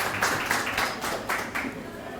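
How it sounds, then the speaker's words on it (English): Scattered clapping from a small audience at a home ownership workshop welcoming a presenter, a brief patter of claps at moderate distance. "Give her a nice round of applause."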